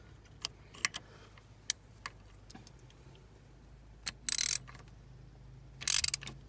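A 19 mm wrench works on the crank pulley bolt of an R53 Mini Cooper S during a timing chain job, giving sparse sharp metallic ticks and two short rattling clatters, close and fairly quiet.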